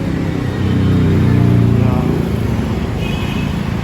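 Steady street traffic in Nha Trang, Vietnam, with many motorcycles and cars droning and revving nearby, a continuous loud rumble.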